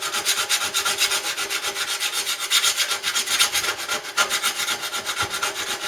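Paint being ground off metal before welding, heard as a steady, close, loud abrasive rasp that pulses rapidly and evenly throughout, with no voices.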